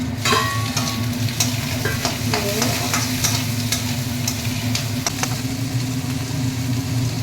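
Shelled prawns frying in oil with lightly browned garlic, a dense continuous sizzle with crackles and occasional stirring scrapes, close and loud over a low steady hum.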